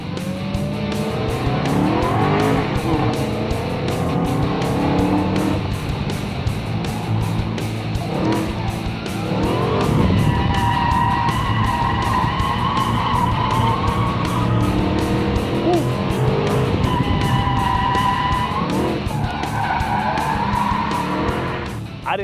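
Loud, continuous engine roar from high-horsepower cars racing, with tire squeals and skidding under hard braking rising in bursts through the run; no talk over it.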